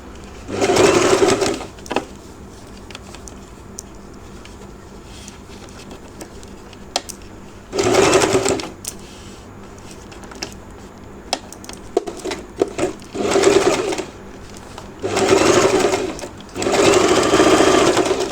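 A sewing machine stitches the neckline of a gathered frock in four bursts of rapid, even whirring, each about a second or two long, separated by quiet pauses with a few small clicks and taps.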